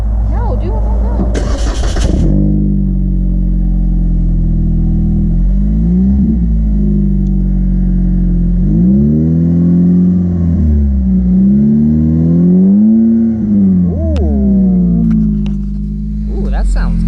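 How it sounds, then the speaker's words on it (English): A 2020 Chevy 1500 pickup with the 5.3L V8 and a newly fitted exhaust, starting up and settling into a deep, loud idle, then revved several times in rising and falling swells, with people talking nearby. "All right, give her a rev. Give her a little vroom vroom."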